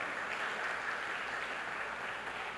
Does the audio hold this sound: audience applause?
yes